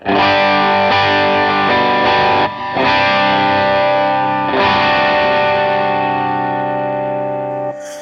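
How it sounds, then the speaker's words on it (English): An electric guitar plays through a POD Go preset with the Minotaur drive engaged on an Essex A-30 (Vox AC30) amp model. Loud, driven chords sustain close up, with chorus and delay trails and a brief break near the start. "Let's turn on that Minotaur drive"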